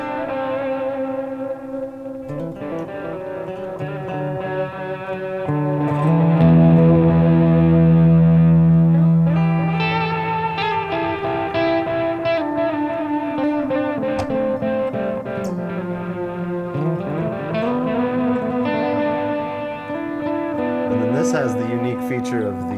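An electric guitar runs through a Caroline Wave Cannon distortion pedal, playing sustained distorted chords and riffs with a thick, saturated tone that swells louder midway, alone without talk.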